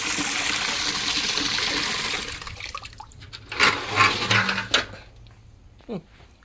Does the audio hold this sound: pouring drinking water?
yes